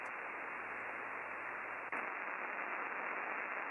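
Steady hiss of broadband static from a ham radio receiver on an 80 meter wire loop antenna, constant and fairly quiet with a brief click midway, no voices.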